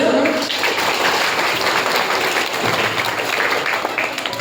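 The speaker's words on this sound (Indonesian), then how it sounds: "boleh tepuk tangan dulu" A school assembly crowd breaks into sustained applause, many hands clapping together in a steady, bright roar that carries on throughout.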